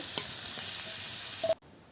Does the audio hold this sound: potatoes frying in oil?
yes